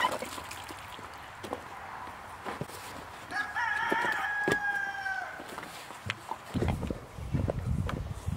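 Chickens clucking nearby with a rooster crowing partway through, amid rustling and scattered background noise.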